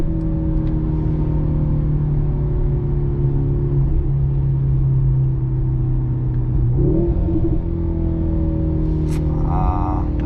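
Mercedes-AMG C43 four-cylinder engine accelerating hard from a standstill on an empty Autobahn at night, a steady loud drone rising in pitch through the run with a gear change near the end, heard alone from inside the cabin.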